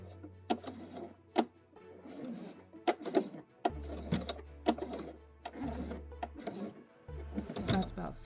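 A sewing machine works a buttonhole on a dress, running in several short motor bursts with rapid ticking stitches between pauses, close and fairly quiet.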